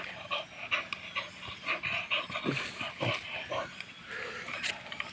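A dog husking a coconut pants in rapid, rhythmic breaths close by, with occasional snuffles and scraping knocks mixed in.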